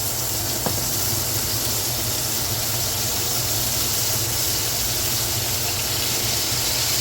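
Butter melts in a hot pan that has been turned to low for a thick sirloin steak, and it makes a steady, close sizzle with a hiss like steam. One brief clink sounds near the start, and no one speaks.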